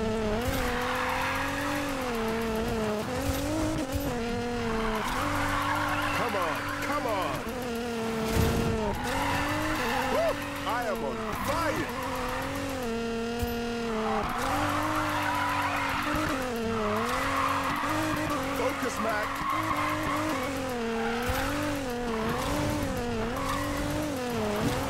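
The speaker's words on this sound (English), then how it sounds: "Do not lose this drift" A car drifting in Need for Speed Payback, engine droning and rising and falling in pitch with long, wavering tire squeal through sustained slides, continuous and loud.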